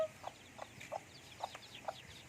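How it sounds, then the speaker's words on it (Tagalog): Chicken sounds: a run of five or six short, soft clucks or peeps at a fairly even pace, quiet and close, with no talk. "Is that sisiw?"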